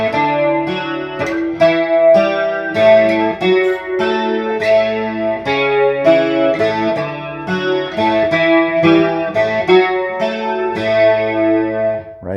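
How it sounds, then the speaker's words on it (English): A bright, jangly 12-string acoustic guitar picks a repeating pattern of notes, its sound swirling and wavering as it is run through a Leslie rotating speaker. "a guitar, I think it's a 12-string acoustic, again, I think, 12-string acoustic run through a Leslie"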